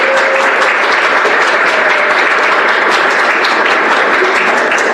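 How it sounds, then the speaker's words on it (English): Audience applause at a student-led civics event, a dense, loud, steady wash of clapping hands that holds evenly from start to finish with no voices on top. "So everyone give a big round of applause for everybody who's here today."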